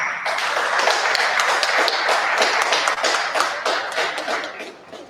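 An audience at a business excellence seminar applauds the panelists with a sustained, loud round of dense, rapid clapping that carries on for several seconds before tapering slightly.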